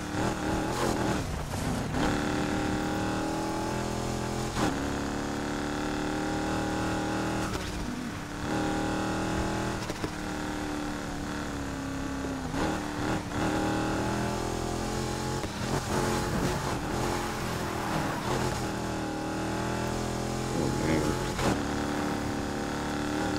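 A Honda NSX engine drones steadily as the car drives in Need for Speed Heat, with sustained revving and shifting pitch under continuous game sound and no talk.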